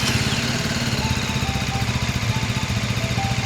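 QJ ATX 250X adventure motorcycle engine running just after starting, a close, steady pulsing idle with a rhythmic low thrum and no talk.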